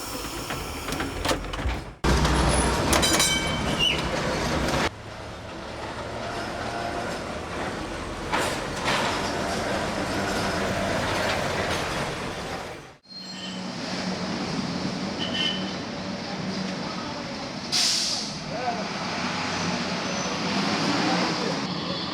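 Santa Teresa tram rolls along its rails with a steady rumbling clatter and brief squeals, a sharp break midway, then continued close running noise with no talk.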